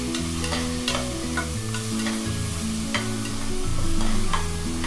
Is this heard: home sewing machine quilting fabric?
no